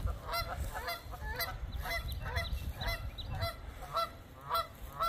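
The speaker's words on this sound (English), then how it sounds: "The island has geese on here. Canadian geese." Repeated honking from several Canada geese on an Oklahoma island, loud and close, coming in irregular bursts over a rumbling outdoor background.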